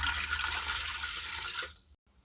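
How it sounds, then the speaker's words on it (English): Water pours steadily into a Ninja Foodi pot in a close, splashy rush lasting under two seconds before cutting off to near silence. "I'm going to add 3 cups of water to the pot"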